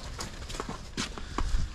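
Dairy cows walk out of their barn beds on a winter farm, with hooves thudding and clopping in an irregular, close series of steps.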